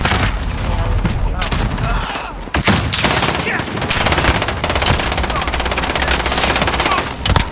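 Heavy automatic gunfire in the video game Call of Duty Modern Warfare, a dense stream of loud rapid shots with scattered heavier booms, continuing almost without pause, with a voice faintly underneath.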